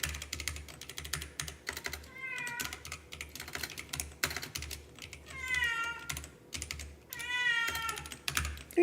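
A pet cat named Lucy meows a few times, rising and drawn out, beside steady clicking on a computer keyboard during an old-school coding session, all close and soft with no talking.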